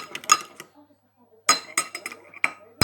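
Spoon clinking and scraping against a bowl while mixing egg with vinegar: quick bursts of sharp clinks, a short pause, then another cluster of taps, close and fairly loud.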